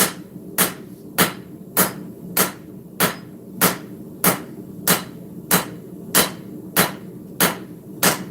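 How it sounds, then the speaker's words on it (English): A hammer forges a cleaver blade down on an anvil: evenly spaced, ringing metallic blows, about fourteen of them at a steady rhythm, loud and close with no talk. "we need to go ahead and start forging this blade down"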